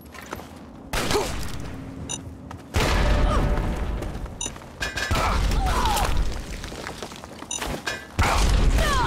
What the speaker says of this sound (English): I'm gonna freaking frag mine you